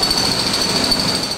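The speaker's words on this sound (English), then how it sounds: "right now we're using what we call HD45. It's a hammer drill" An HD45 hammer drill breaking up the concrete face of a dam, a loud, rapid, continuous mechanical pounding with a harsh metallic ring, close and alone.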